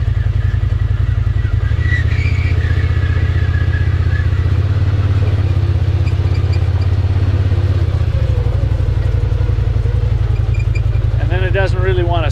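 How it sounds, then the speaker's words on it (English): A John Deere Gator RSX850i utility vehicle with a worn clutch and drive belt, idling loud and close with a steady throbbing engine beat and a thin high squeal while in gear, as someone talks over it. "You can kind of hear a squealing going on."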